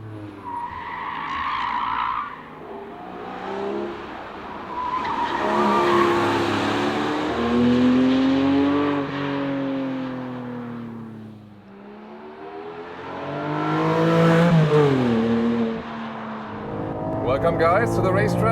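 A Porsche 718 Cayman GTS 4.0 with a naturally aspirated six-cylinder engine, driven hard on a racetrack and heard from inside the cabin: loud engine revs rise and fall in long sweeps, with tire squeal and someone talking over it.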